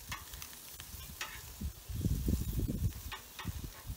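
Beer brats sear in pans on a Watchman stove, giving a close, crackling sizzle that swells into a louder burst of spattering midway before settling back to a lighter frying hiss.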